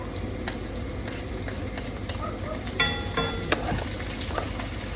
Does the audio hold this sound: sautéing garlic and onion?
yes